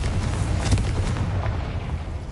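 The Confringo explosive spell in Hogwarts Legacy blasts as a dense, rumbling boom that stays loud and sustained, with crackling bursts layered over a heavy low roar.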